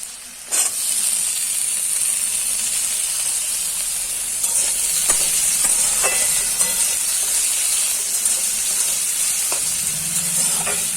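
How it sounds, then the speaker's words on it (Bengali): New potatoes fry in oil in a wok, producing a strong, continuous close-up sizzling hiss that holds steady throughout, with a few light clicks and scrapes of stirring. "কড়াইয়ে তেল দিয়েছি আর তেলের ওপরে সব আলুগুলো আমি দিয়ে দিলাম আলুগুলো ভালোভাবে ভেজে নেবো"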